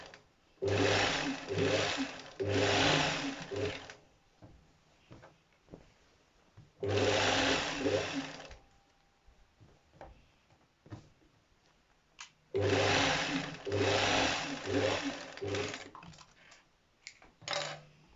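A sewing machine stitches a palazzo pant jumpsuit in three loud, steady runs of rapid whirring, separated by quiet pauses filled with faint handling clicks.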